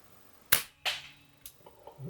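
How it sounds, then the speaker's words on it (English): Air rifle firing a JSB Exact Jumbo pellet: one sharp, close crack, followed moments later by a second report and a fainter tap, with no talking. "Last shot of the 10."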